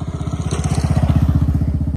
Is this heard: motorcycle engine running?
yes